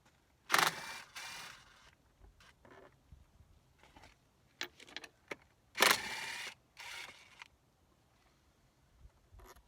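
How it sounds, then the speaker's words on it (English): A 10mm socket wrench working on a 2006 Yamaha 70TLR two-stroke outboard, with a few scattered ratcheting clicks and metallic handling noises in short bursts, close and fairly quiet. "This is a 10mm socket."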